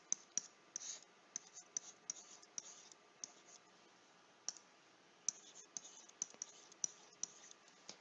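Faint, sparse clicks come from keys pressed on a calculator, arriving in small irregular bursts with quiet gaps between them.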